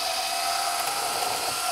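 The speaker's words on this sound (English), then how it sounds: "we need to first drill a hole through the board." A power drill bores a hole through a wooden ledger board outdoors, a steady, loud whining buzz that runs without a break from start to finish.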